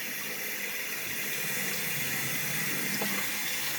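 Hot water runs steadily from a tap as hands are scrubbed under it, a continuous close hiss with no voices.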